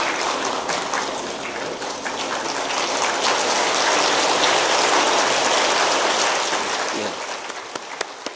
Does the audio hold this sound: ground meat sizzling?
no